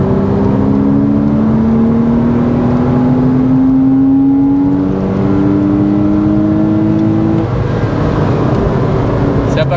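A 2003 Porsche Boxster S (986) flat-six climbing steadily toward its 7000 rpm redline, a loud, smooth rising engine note heard from inside the car, holding high revs for several seconds before easing off.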